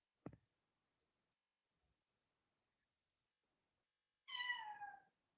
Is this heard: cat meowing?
yes